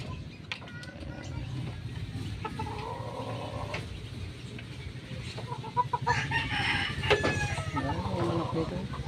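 Chickens clucking and a rooster crowing in an outdoor farmyard, with a low background hum and occasional faint voices.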